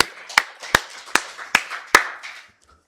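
A congregation at a Korean Full Gospel church's Sunday worship service claps in unison, five sharp, evenly spaced claps in a steady rhythm. Each clap rings briefly in the reverberant sanctuary before the sound fades to quiet.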